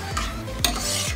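A spoon stirs yogurt into fish kofta curry in a pan, with rhythmic scraping strokes over a steady sizzle and no talking.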